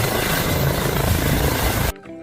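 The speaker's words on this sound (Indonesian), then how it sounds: "Wadidaw, ada helikopter." A loud, dense helicopter rotor roar fills the first two seconds, then cuts off abruptly into quiet.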